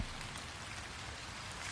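Rain falls outdoors near a creek as a steady, even hiss of drops on surfaces, with no voices.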